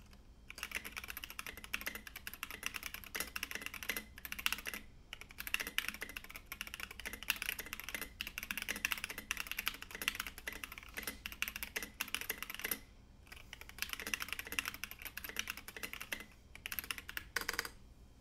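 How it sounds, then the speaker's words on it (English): Typing on a homemade keyboard, with steady rapid key clacks in a fast continuous rhythm and a few brief pauses, close and moderately quiet, with no voices. "So this keyboard I made in last week's live stream."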